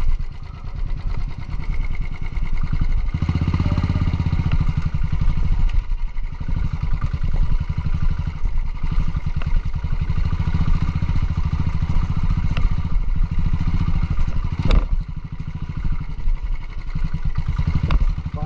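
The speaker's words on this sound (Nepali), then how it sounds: "बाइक चलाउनु चाहिँ लास्टै गाह्रो भयो" A motorcycle ridden along a rough village road to Rumsi in Nawalpur, its engine a loud, steady mid-pitched drone with rattling clatter from the bumpy track throughout.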